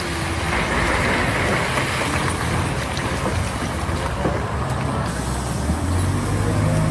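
A giant 225,000-pound mining wheel loader drives into a pile of blasted rock, producing a loud, constant heavy-machinery rumble and grinding roar that persists throughout without pause.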